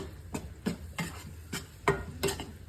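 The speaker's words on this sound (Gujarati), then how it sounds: "તમે જોઈ શકો છો કે લોટ બરાબર પ્રોપર આપણે મિક્સ કરી દઈએ" Wheat flour stirred in ghee in a pan for sukhdi: a spoon scrapes through the thick mixture in a steady rhythm of about seven soft strokes over low, quiet sizzling.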